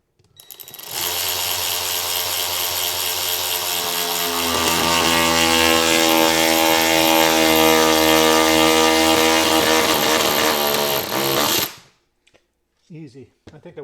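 A Ryobi 4V cordless 3/8 inch ratchet runs close and loud for about eleven seconds, a steady whirring motor whine that rises in pitch and strain midway, then cuts off abruptly, followed by a couple of brief clicks.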